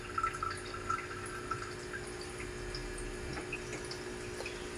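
Water bubbles and drips steadily as food boils in a pot, with small splashes and a faint tonal hum over a constant watery wash.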